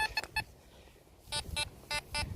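A Fisher F44 metal detector signalling a coin, giving short repeated electronic tones in quick bursts: three beeps, a pause, then four more, loud and close.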